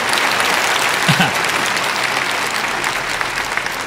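An audience in a church bursts into sustained, dense applause, a steady wash of many hands clapping at fairly even loudness for the whole stretch, with no speech over it.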